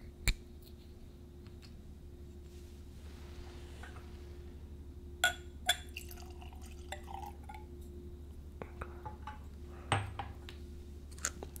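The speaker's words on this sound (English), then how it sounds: "I'm going to pour this out and let it air a little bit" Kings County straight bourbon whiskey poured into a glass, heard as a faint, brief trickle among soft glass clinks and scattered drips, quiet and close in a still room.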